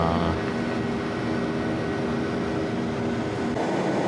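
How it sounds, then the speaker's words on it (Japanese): A loud, constant roar of jet engines fills the whole stretch, heard from inside the cabin as the plane accelerates for takeoff from Ishigaki Island, with no one speaking. "飛行機が石垣島を離陸していきます。"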